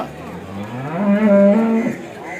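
One loud, drawn-out moo from a cow at a cattle market rises and holds for about a second, close by, over a low background hum of the crowd.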